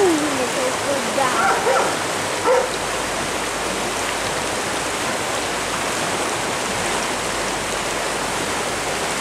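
Steady rushing of a river flowing beside a bench, a loud, continuous wash of water noise, with a brief voice and a short dog-like sound near the start.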